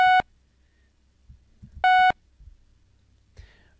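Two short, bright PICO-8 synthesized tones in a mixed sine-sawtooth waveform, each under a quarter second, sound about two seconds apart against near silence, with faint soft bumps between.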